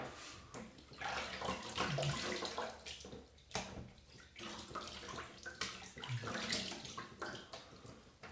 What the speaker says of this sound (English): so I'm going to give it a quick rinse.